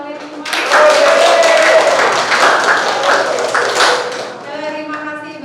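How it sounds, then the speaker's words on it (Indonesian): Students clapping together at the end of a university lecture, a broad, steady round of applause lasting several seconds that tapers off near the end. "Boleh minta tepuk tangannya untuk kalian semua."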